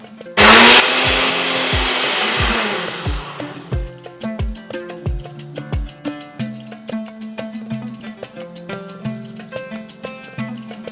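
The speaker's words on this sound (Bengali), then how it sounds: "চিনি লাগবে 1/2 কাপ, যেটাকে আমি গুঁড়ো করে নেব" An electric kitchen grinder whirs at full speed as half a cup of sugar is ground into powder, a loud, close buzzing that starts abruptly and runs for several seconds, then gives way to a steady, bouncy rhythmic music track.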